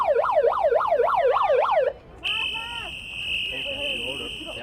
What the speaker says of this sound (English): As the halftime siren sounds in the background